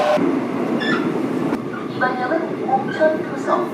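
Riding a metro train in Seoul, a steady loud underground rumble and rolling hiss fill the car, with a brief click and faint voices and tones in the background.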